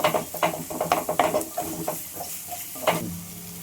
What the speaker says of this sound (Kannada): ಹಸಿ ಹೋಗೋವರೆಗೂ ಫ್ರೈ ಮಾಡ್ಕೊಳ್ಳಿ